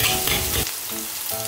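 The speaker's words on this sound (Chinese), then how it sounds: "热锅冷油我可以多倒一点葱花 现磨的肉末把肉炒香" Freshly ground minced meat and chopped scallions stir-fry in hot oil in a pan with a steady, loud sizzle and brief stirring scrapes, without any voices.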